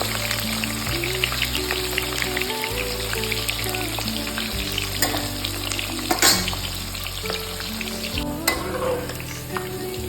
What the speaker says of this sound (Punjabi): ਥੋੜਾ ਜਿਹਾ ਤੇਲ ਕਰਵਾਵਾਂਗੇ ਤੇ ਇਹ ਫਰਾਈ ਕਰਾਂਗੇ